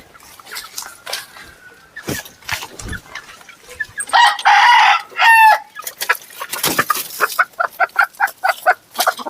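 A rooster crows loudly nearby, followed by a quick run of rhythmic clucking from chickens.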